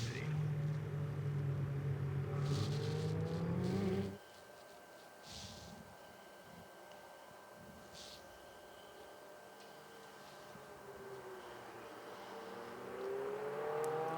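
Ferrari Challenge race car at Road Atlanta entering the pit lane: a loud engine drone cuts off abruptly, then a lower steady hum and whine continues before the engine rises again near the end.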